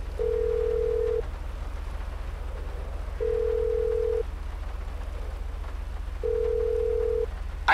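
A phone ringing in the video game Grand Theft Auto V, three long even rings with pauses between them, steady and moderately loud over a low constant hum.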